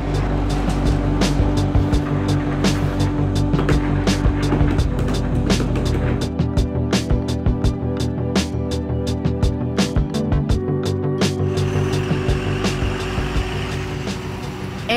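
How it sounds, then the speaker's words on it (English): Trucks hauling demolition debris and rubble of concrete, cement, asphalt, wood and plastic rumble steadily nearby, with a deep continuous engine drone and scattered clicks and rattles throughout. "these trucks have been transporting debris and rubble, consisting largely of concrete, cement, asphalt, wood and plastic, from the demolition site to the plant"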